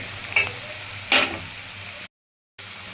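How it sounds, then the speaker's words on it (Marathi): Soybean masala mixture for a soybean pulao is stirred in a pan with two short scraping strokes over a steady low sizzle, then a brief total dropout before the sizzle resumes. "सोयाबीन सगळे एकजीव करतोय मिश्रण"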